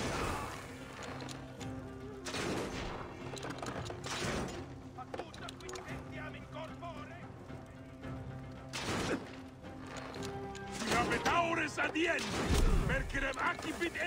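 A crossbow turret in Assassin's Creed Origins fires repeatedly at the Cyrene Barracks, with sharp mechanical thuds and clatters at intervals, heavier near the end, mixed with game clatter and someone talking over it.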